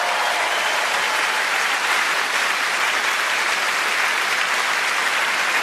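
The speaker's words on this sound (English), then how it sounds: "give him a round of applause" A comedy show audience breaks into dense, steady applause that fills the room at a constant level without pause, with no voices standing out above it.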